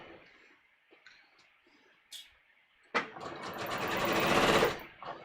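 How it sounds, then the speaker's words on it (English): A sewing machine stitching a sleeve seam at stitch length 3.0: a few brief taps and short starts, then a close, steady, fast-running stitching burst of about two seconds that stops abruptly, followed by a short tap. "All right, so let me just sew this together."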